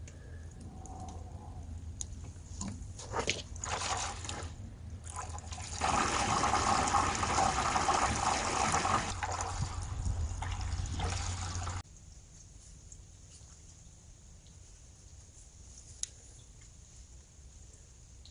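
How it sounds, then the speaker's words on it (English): Water pushed by a circulation pump rushes through a greenhouse heating loop, a steady close gurgling and hissing flow that swells loudest midway, then drops abruptly to a quieter trickling hum. "plug the circulation pump in. So now we're sending it through the loop."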